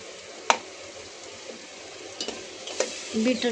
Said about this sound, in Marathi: हे पण चांगलं एकदम फ्राय होऊ द्यायचं